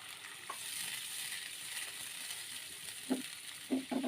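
Ginger-garlic paste frying with onions sizzles faintly and steadily after a splash of water goes into the pan for a rui fish curry. A few knocks of the stirring utensil come near the end, with no speech.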